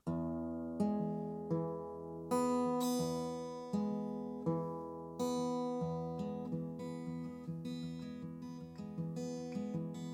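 An acoustic guitar is fingerpicked in a steady alternating-bass Travis pattern for acoustic blues, with treble notes ringing over a thumping low line, close and clear, no voices.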